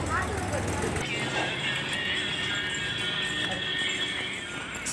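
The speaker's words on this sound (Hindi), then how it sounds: "सुबह सुबह एक नहीं दो घोड़ा देखे बर मिला थे।" Horses neigh and their hooves clip-clop on a street on a cold morning during a family trip, mixed with voices and background town noise.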